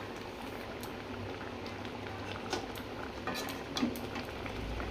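A pot of rice boils steadily on a home stove, a continuous soft bubbling hiss with scattered small pops and ticks, close and fairly quiet throughout.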